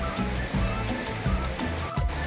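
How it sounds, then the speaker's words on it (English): Cascada El Payón, the most impressive waterfall on Ecuador's avenue of waterfalls, fills the air with a steady, loud, broadband rushing roar of falling water that surges slightly in waves. "the most impressive waterfall on the avenue of waterfalls."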